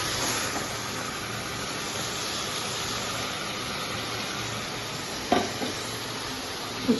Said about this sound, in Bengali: পেঁয়াজ কুচিয়ে লঙ্কা তেলে ভেজে কালো জিরে দিয়ে ঝিঙে ভাজা হচ্ছে।